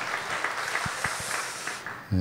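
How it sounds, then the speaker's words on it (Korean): A church congregation applauds during a worship service, a steady wash of clapping that holds evenly, then breaks off abruptly at the end. "우리 하나님께 영광의 박수 올려드리겠습니다."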